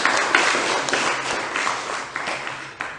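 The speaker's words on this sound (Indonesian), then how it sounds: "Sekali lagi tepuk tangan untuk Anda semuanya." Audience at an organisational training session in an Islamic boarding school applauding, a thick continuous burst of clapping that gradually tapers off over a few seconds.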